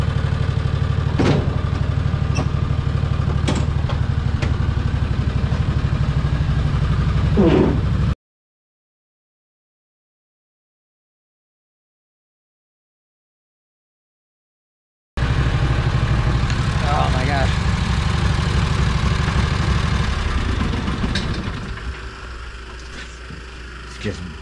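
A John Deere Gator engine idles with a low, rumbling burble through its muffler, heard close before and after a silent gap and easing off toward the end.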